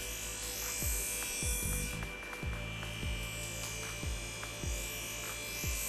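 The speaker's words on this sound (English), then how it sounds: "the blade is then passed over the polishing wheel at a more acute angle" A chef's knife blade pressed against a spinning polishing wheel at an acute angle, a continuous whirring hum with repeated scraping passes and low rumbling sweeps, no voices.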